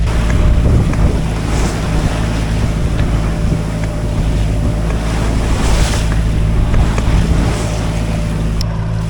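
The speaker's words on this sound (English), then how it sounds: "Thank God for the winds, or else this would be terrible. But without the wind, we wouldn't have the waves." Strong wind and rough ocean waves surround a sailboat at sea, a loud, steady roar of gusts and rushing water across the whole stretch with no break.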